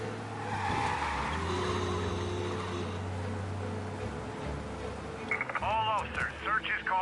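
A car in the Mafia game engine drones low and steady while driving fast, then gives way to warbling, wavering tones near the end, with voices talking over much of it.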